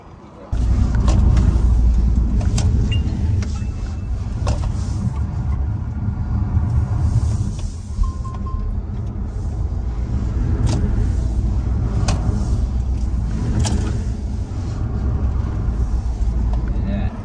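A BYD Seal electric car runs a slalom on a race track, heard as a steady, loud rumble of road and wind noise from inside the cabin with some faint clunks, while people talk now and then.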